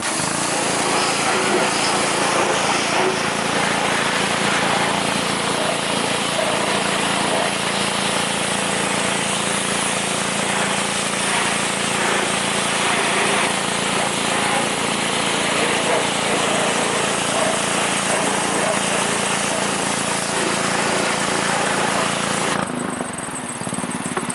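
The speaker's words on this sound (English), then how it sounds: "back to the power washer, and it's going to look a bit different." Power washer spraying down a car's engine compartment while degreasing, a loud, unbroken broadband hiss and motor drone held close for the whole stretch, briefly easing near the end.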